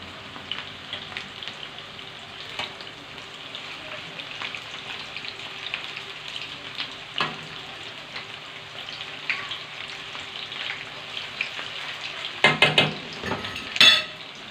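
Food frying in a pan with a soft, continuous sizzle and crackle, fairly quiet, with a few sharper clinks of utensil against pan near the end.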